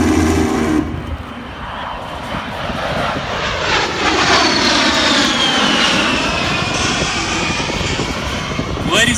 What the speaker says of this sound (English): And the A-10 Thunderbolt